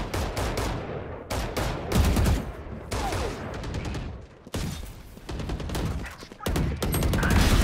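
Gunfire in a Valorant match, rapid bursts of automatic shots in dense volleys separated by short pauses, loud and close, with a player talking faintly underneath.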